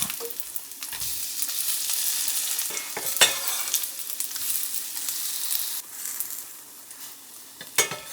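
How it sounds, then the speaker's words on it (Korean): Korean fish cake batter pancakes frying in a pan over medium-low heat, shaped from spooned batter and browned on both sides; a steady, close sizzle crackles throughout with no talking. "반죽을 떠 올려 모양을 만들어 중약불에서 익혀주세요. 앞뒤로 노랗게 구우면 쫄깃한 어묵전이 완성됩니다."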